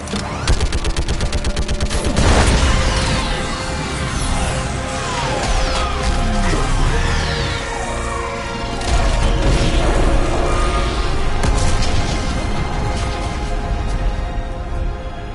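An orbital strike firing in the video game Mass Effect 3, a continuous loud barrage of rapid booming blasts and rattling fire with sweeping energy whines, sustained and dense throughout with no talking.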